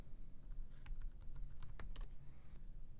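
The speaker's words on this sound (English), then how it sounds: "I'm gonna double click there and type in the word buildings" A computer keyboard is typed on in a quick run of crisp, close key clicks lasting a couple of seconds over a faint background hum, with no speech.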